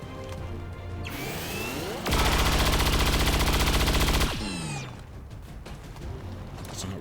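A shredder cannon firing in the video game XCOM 2 sounds as a dense, loud burst of rapid automatic fire lasting about two seconds, preceded and followed by rising and falling mechanical whirring.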